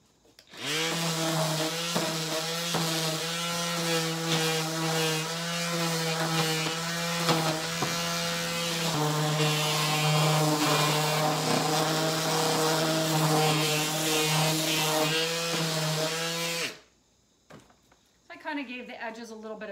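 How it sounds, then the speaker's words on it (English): A power sander bevels the edges of a 2x4 wood pumpkin with a loud, continuous buzzing whine that shifts pitch partway through, then cuts off abruptly near the end, followed by brief quiet sounds. "maybe hit this a little bit with a sander"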